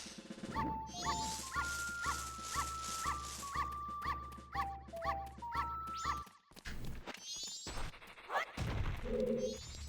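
A dog in the video game Majora's Mask barks and yips repeatedly in a quick rhythmic series, layered over looping game music with chiming tones, then the barking breaks off near the end.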